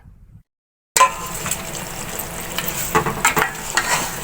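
Chicken curry fries and is stirred in a pan, giving a steady close sizzle with scraping stir strokes that start abruptly after a brief moment of near silence.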